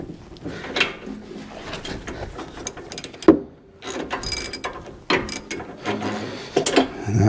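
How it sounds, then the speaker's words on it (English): Socket wrench ratcheting to loosen the spark plug on a Toro TimeCutter lawn mower, several close bursts of quick clicking pawl turns separated by short pauses. "So I've got a wrench here with the right size socket on it."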